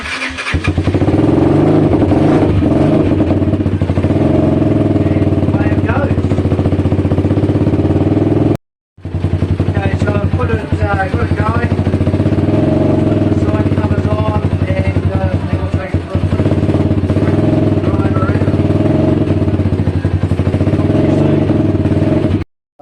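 A Bashan 125cc motorcycle engine starts and runs loud and close, with a rough throbbing idle and rising revs. It cuts out briefly partway through, then restarts and keeps running.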